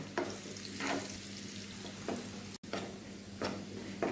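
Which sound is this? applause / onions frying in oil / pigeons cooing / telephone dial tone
onions frying in oil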